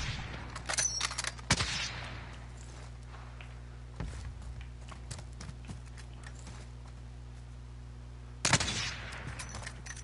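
Gunfire in a video game, with a sharp burst of shots near the start, a lone faint crack midway and another loud burst near the end, over a steady low hum.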